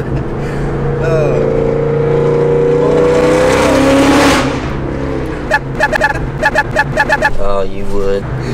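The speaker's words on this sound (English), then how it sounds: "I definitely heard the whine when you got on it" A 530-horsepower Terminator Cobra engine revs hard under acceleration, its loud rising whine building for about four seconds and then falling away, with people talking over it.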